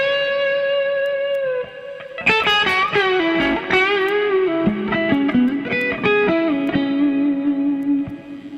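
Electric guitar through a plugin amp chain with a long reverb of almost eight seconds, playing a sustained note then a run of plucked, slightly distorted notes whose tails blend into a lingering wash.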